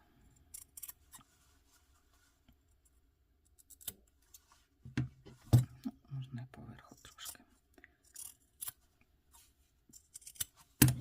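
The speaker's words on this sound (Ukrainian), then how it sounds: "Тепер беремо ножиці і потрібно в кутках, отут, в куточках, вирізати зайве, ось так." Scissors snip fabric several times in short bursts, close by, trimming corners of a doll's overalls, with soft handling noises and quiet rustling between cuts.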